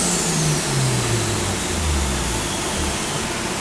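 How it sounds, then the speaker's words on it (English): Mazda RX7 rotary engine with a single turbo conversion, blipped on the throttle so the revs rise and then fall away in a sweeping tone, loud and close with no talking. "always the double blip, never a single blip in a rotary"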